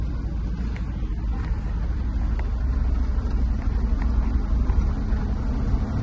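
A 1970 Dodge D500 dump truck, back on the road after five years parked and riding on somewhat flat tires, rumbles along with a loud, continuous low engine drone and rattling body noise from its bouncing hood.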